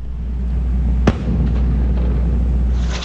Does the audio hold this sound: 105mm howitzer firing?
yes